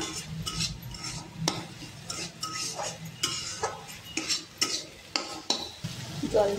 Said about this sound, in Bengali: দিয়ে এটাকে আমি নেড়ে নেবো।